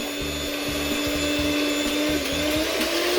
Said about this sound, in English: put your whisk in before you start whisking, put it into your fluid, and then we're just going to press go